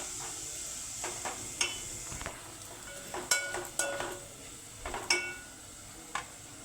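Grated coconut frying in a pan for Maharashtrian amti, with a steady soft sizzle under close scrapes and clinks of a spoon stirring against the pan.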